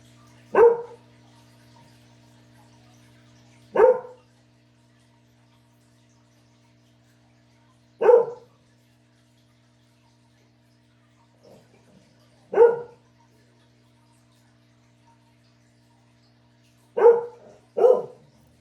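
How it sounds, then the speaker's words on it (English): A dog barks in isolated single woofs spaced several seconds apart, ending with a quick double bark, with quiet in between. "Hear how he's barking, folks? As if he just woke up."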